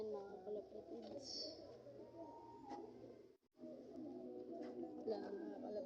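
Several pigeons coo in soft, rolling bursts close by, the cooing briefly dropping out before resuming, with faint background noise underneath.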